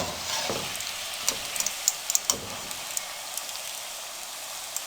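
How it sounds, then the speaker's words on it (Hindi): Donuts deep-frying in hot oil give a dense, continuous bubbling sizzle, close and steady, with scattered sharp pops and crackles through the middle; nobody speaks. "अब इसी तरह हम बारी बारी फ्राई कर लेंगे"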